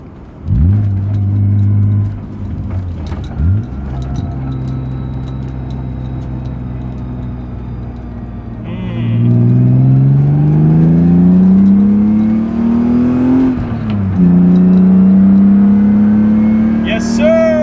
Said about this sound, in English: Finally, we can drive this fucking car.